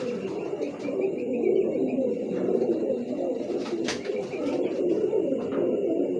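Racing pigeons cooing in a loft, soft repeated low coos overlapping continuously at close range, with faint chirps and no talk.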